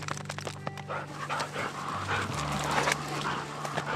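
A Vizsla bird dog pants in quick, rhythmic breaths close by after a quail hunt, with a few faint whimpers mixed in and outdoor background noise underneath.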